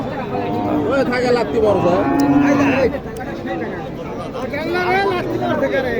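Cattle being unloaded at a busy rural livestock market in Naogaon, Bangladesh, low repeatedly and loudly, and their calls overlap with nearby human chatter and crowd noise.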